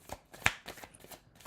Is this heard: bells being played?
no